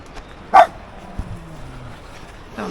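A dog gives one sharp bark, then a fainter yip and a low whine on a windy morning. Another bark starts at the very end, with a quiet background between the sounds.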